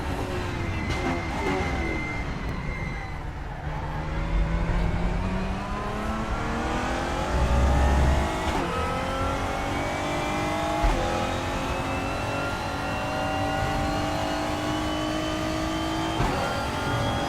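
Race car engines in the RaceRoom sim rev up and down through the gears, with sweeping pitch climbs, crackling overrun on lift-off and a brief tyre squeal, loud and continuous with no talking.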